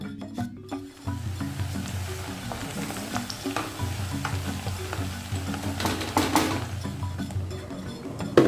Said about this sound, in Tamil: வெங்காயம் நல்லா ஃப்ரை ஆகிட்டு இருக்கும்போதே